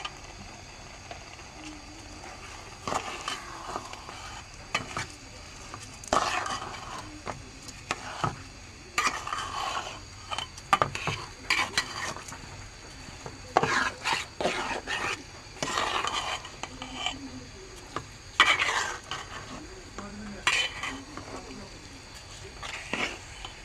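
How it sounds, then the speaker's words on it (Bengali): Rice with a little salt is stirred and fried in a pan for biryani, making repeated scraping strokes with a faint sizzle between them at close range. "চাউলটা আমার ভালো করে ভাজা হয়ে গেছে"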